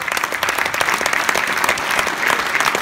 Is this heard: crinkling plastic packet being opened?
no